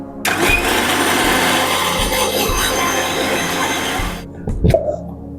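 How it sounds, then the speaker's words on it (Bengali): A mixer grinder grinds spice paste with a little water for Bengali shukto, whirring loudly and steadily for about four seconds before it cuts off, followed by a few clattering knocks of the jar. "তারপরে আমি অল্প একটু জল দিয়ে আবার এটাকে ভালো করে পেস্ট করে নিচ্ছি"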